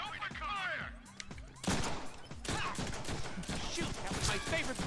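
Gunfire in the Deadpool and Wolverine video game: quick bursts of rapid shots crackle in dense clusters, fairly loud and close, with people talking over parts of it.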